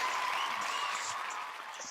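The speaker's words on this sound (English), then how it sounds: "Give a big round of applause for Jake Schmalz to welcome him to the show." A live show audience welcomes guest Jake Schmalz with applause, a soft, steady hiss of many hands clapping, faint and somewhat distant, lasting a couple of seconds.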